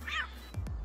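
A cat creature in Palworld lets out a short high meow, followed by two quick low thuds of a fight.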